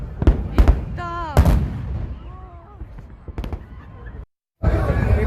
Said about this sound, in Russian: И салюты, и пушки, и еще что-то.